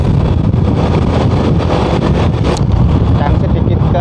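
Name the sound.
wind blowing on the microphone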